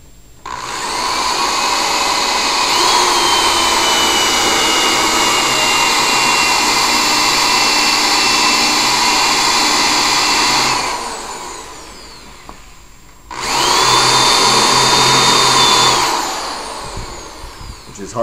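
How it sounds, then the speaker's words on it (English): A power drill bores holes through the cover of a small 4x5 inch record book, giving two long loud whining runs, the first lasting about ten seconds, then a brief pause before a shorter second burst. "Then you need to drill 4 holes in it."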